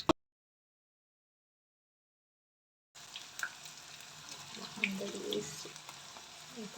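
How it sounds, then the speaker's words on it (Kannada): Small balls of cabbage Manchurian batter frying in hot oil, a steady soft sizzle and bubbling after a silent start, with a few light clicks and splashes close by. "ಹಾಗೆ ಚಿಕ್ಕ ಚಿಕ್ಕದು ಹೀಗೆ ಉಂಡೆ ಮಾಡಿ ಹೀಗೆ ಎಣ್ಣೆಗೆ ಬಿಡ್ಬೋದು ಇದೇ ರೀತಿ."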